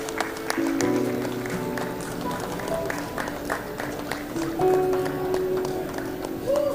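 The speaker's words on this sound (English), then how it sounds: "A round of applause for Tejas." Steady applause from a convocation audience at an institute of management graduation ceremony, moderate and continuous with scattered sharp claps and faint background murmur across the whole stretch.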